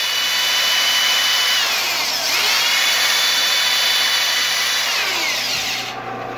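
Steady, loud whine of a power sanding pad grinding an anodized aluminum RC Clodbuster chassis link, continuous for several seconds, with slight pitch shifts before it cuts off.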